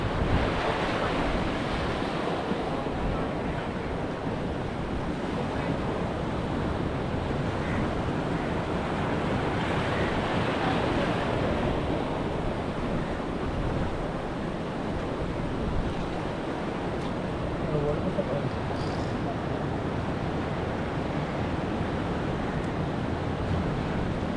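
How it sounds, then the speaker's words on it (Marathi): Powerful sea surf crashes and surges continuously on the Mumbai coast in rain, a dense roar of breaking waves with wind gusting across the microphone throughout. "समुद्राचं पाणी पण खूप जोरामध्ये वरती येतोय"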